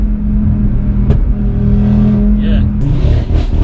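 A tuned Audi RS3 with about 500 bhp, remapped and fitted with a full exhaust, drones loud and close with a sharp crack early on and a rising rev toward the end, with talk over the engine.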